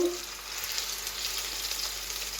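Spices dropped into hot oil, an even close sizzle that hisses steadily for a couple of seconds without any voices.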